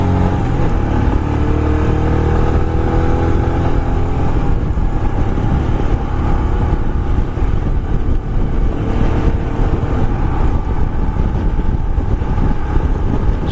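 A 2022 Royal Enfield Himalayan motorcycle riding at around fifty miles an hour on a closed coast road, a loud steady engine drone mixed with heavy wind rush, no talking.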